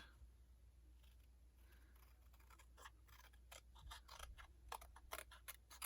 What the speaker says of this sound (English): I'm going to trim that out.